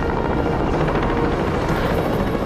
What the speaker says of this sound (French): Les hélicoptères survolent Rockall Creek.